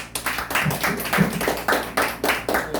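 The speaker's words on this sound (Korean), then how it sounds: "박수로 환영해 주세요." An audience at an academy course opening ceremony claps to welcome guests, with distinct hand claps forming a loose, uneven rhythm of separate bursts in a room.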